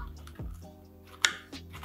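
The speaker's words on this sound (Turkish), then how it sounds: "Bütün hepsini doğradıktan sonra tuzla güzelce ovacağız." Chopped cabbage is rubbed with salt by hand for a börek filling, producing wet squishing and crunching with a few sharp juicy squelches, close and fairly soft, without speech.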